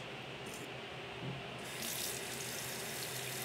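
Hot water runs from a tap in a steady, close hiss that swells slightly louder partway through, with no one talking over it.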